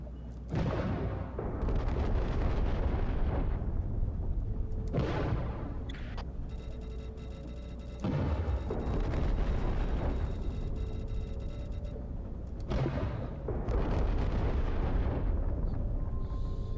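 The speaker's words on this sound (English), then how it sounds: "we are going to go ahead and shoot some of these mines" Mines hit by submarine fire in the underwater game Diluvion burst in heavy, booming detonations, several in succession at intervals of a few seconds, each with a rumbling tail, with ticking game sounds between.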